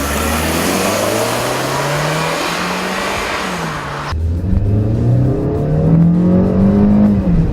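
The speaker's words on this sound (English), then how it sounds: "The engine sounds better from the inside than it does the outside" A 2014 Hyundai Elantra Coupe engine accelerating hard during a 0-60 run, heard from inside the car: loud rising revs, a sudden drop at a gear change, then climbing again.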